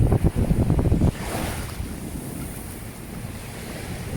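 Sea waves wash onto Jomtien Beach in Pattaya: a close, choppy rush of surf for the first second settles into a continuous breezy wash of water, with wind buffeting the microphone.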